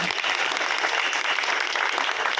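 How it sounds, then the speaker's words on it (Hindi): An audience applauds at a Diwali gathering ceremony held by a traders' association in Jhabua, with loud, dense, sustained clapping from many hands throughout and no break. "सम्मानित श्री रामेश्वर जी सोनी साहब, आप पधारे, बड़े जोरदार तालियों के साथ में।"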